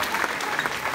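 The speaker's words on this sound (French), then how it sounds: "Applaudissements à l'équipe" Brief burst of steady crowd applause greeting a women's handball team at a season presentation, dense continuous clapping throughout the short moment.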